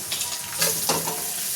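Asafoetida and spices hitting hot oil with cooked onions as a tempering for poha, a loud close sizzle with scraping stirring strokes through the short burst, no voices.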